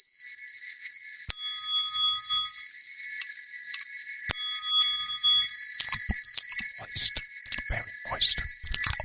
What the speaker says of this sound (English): And get your wind chimes out, bro.